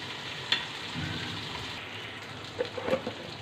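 Spice paste for a liver bhuna fries in a pan, a soft low sizzle with a sharp clink early on and a few scraping stirs toward the end.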